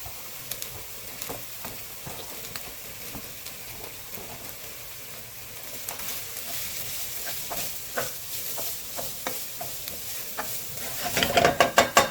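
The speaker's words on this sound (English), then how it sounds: "There is olive oil inside of there, and I'm just going to go ahead and put my onions in." Onions sizzling in olive oil in a pan for turkey chili, a soft steady crackle with scattered stirring taps that grow louder and busier toward the end, no talking.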